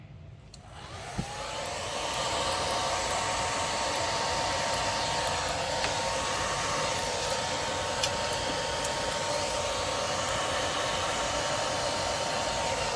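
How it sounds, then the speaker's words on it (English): A hair dryer on its low setting blows over wet acrylic paint during a pour, starting with a click and settling into a steady, loud whooshing hum that runs unbroken to the end. "I'm going to try the low setting on the hair dryer"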